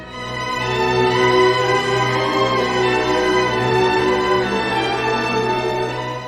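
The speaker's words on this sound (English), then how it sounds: "In excess of 80 musicians playing, the sound of a full symphony orchestra playing music by Rachmaninoff" A full symphony orchestra of more than 80 musicians plays Rachmaninoff, a dense, sustained wall of strings with a steady low bass line, rich and loud throughout.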